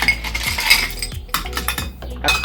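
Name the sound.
scoop of ice clinking into cocktail glass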